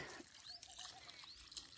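Water trickles and dribbles steadily from a pipe onto garden plants, a quiet, continuous running sound with faint splashy detail.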